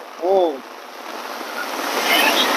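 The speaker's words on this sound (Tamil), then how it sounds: "என்ன பேய் மழை." Heavy pouring rain in Jaffna makes a dense, steady roar that swells slightly over a few seconds, after a brief burst of voice at the start.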